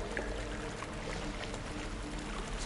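A video game character wades through water, a continuous sloshing, pouring wash of water held at a steady, fairly close level with no voices.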